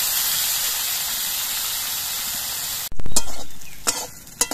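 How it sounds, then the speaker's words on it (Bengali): Bitter gourd pieces fry in a little mustard oil in a kadai, a steady close sizzle that turns into a louder hissing burst partway through, broken by a few sharp stirring scrapes and clinks. "এই জন্য অল্প করে উচ্ছে দিয়ে আমি ভাজছি।"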